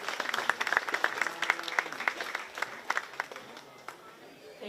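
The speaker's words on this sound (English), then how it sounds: "Let's give them a round of applause" Scattered applause from a small county fair audience honoring two market heifers in a 4-H beef show, individual claps audible at first, then thinning and fading as the round ends.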